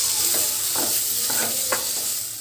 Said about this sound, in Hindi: अब हम इस पेस्ट को इसके अंदर डालते हैं। इसे अच्छी तरह से मिला लेते हैं।